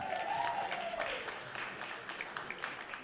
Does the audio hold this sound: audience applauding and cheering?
yes